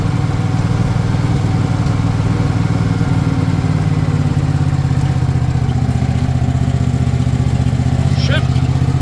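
A 1977 Cushman Truckster utility vehicle engine runs loud and steady while driving, a close, continuous chugging drone with a little rattle and no break.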